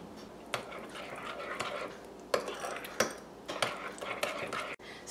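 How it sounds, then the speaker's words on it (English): Ketchup, brown sugar, horseradish and brown mustard being stirred together in a bowl for a meatloaf topping, with a spoon clinking and scraping against the dish in several distinct knocks over a soft wet stirring bed, close and moderately quiet. "mix together your ketchup, brown sugar, horseradish"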